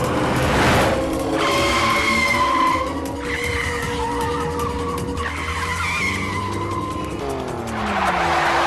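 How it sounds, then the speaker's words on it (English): A new car driven fast with tires skidding and squealing, long loud screeches that bend in pitch over a roaring engine, one sustained skid after another. "Come on, go fast, Anand."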